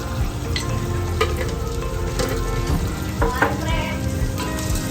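Ginger garlic paste and turmeric sizzle steadily in hot oil for mutton pulao, with a spoon stirring through in scattered scrapes over a dense, continuous frying hiss.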